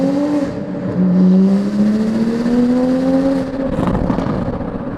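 A tuned 2020 Toyota Supra does a 50 mph rolling burnout, its engine wailing loud and close as the revs climb smoothly and hold high, with a rougher burst near the end.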